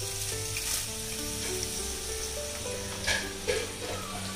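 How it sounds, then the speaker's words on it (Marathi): Whole garam masala, bay leaf, nutmeg, cinnamon, cloves and black peppercorns, crackles and sizzles in hot oil, a loud continuous fry with a couple of sharper pops and stirring noises, heard close. "त्याला पण जरा व्यवस्थित तेलामध्ये फ्राय करून घेतो"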